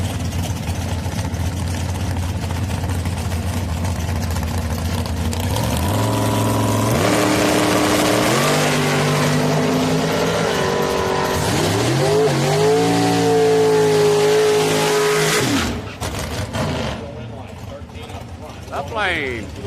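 Drag race cars at Houston Raceway Park roar loud and close at their final bracket race, engines rising through rapid gear changes before cutting off, over a constant crowd and track din.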